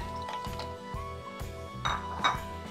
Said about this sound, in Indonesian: Kita aduk sampai merata.